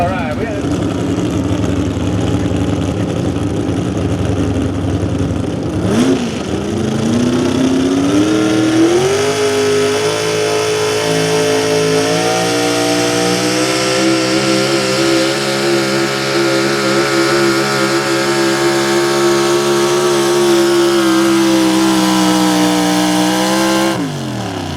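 A small block truck engine in a truck pull roars loud and close, its pitch climbing steadily as it drags the sled and holding a sustained high rev for most of the run before cutting off abruptly.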